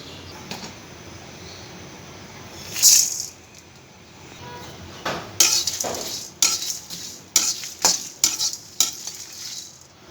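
Dried chillies and coriander seeds frying in oil for an egg curry spice mix, a soft sizzle under repeated sharp scrapes and clinks of a spoon stirring in the pan.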